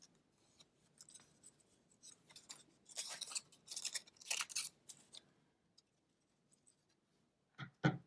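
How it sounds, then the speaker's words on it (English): Scissors cut through yellow paper in a quiet indoor setting, a few soft snips and crisp rustling slices clustered in the middle, then a brief louder snip near the end, faint overall and without speech. "So I could cut this yellow part."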